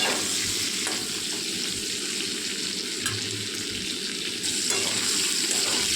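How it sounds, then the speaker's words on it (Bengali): Pointed gourd pieces fry in hot oil, a loud, dense and unbroken close-up sizzle with faint stirring knocks now and then, and no voices. "পটলটা ভাজা প্রায় হয়ে এসছে একটু লাল লাল করে ভেজে নিতে হবে"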